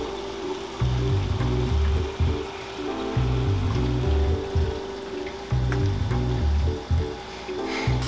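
Twin water pumps in a custom PC liquid-cooling loop with a radiator churn and gurgle while purging air bubbles through the piping, a rhythmic sloshing that surges and drops in repeated pulses.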